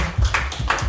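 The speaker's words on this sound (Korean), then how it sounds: "박수 소리가 나야죠" Audience of seniors clapping at a Lunar New Year volunteer performance at a senior home-care welfare center, a short burst of loud, close hand claps in an irregular rhythm.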